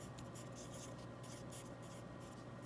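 Pen or pencil writing notes by hand on paper during a percent proportions math lesson, a steady soft scratching and rubbing sound that continues throughout, faint and close against a constant background hum.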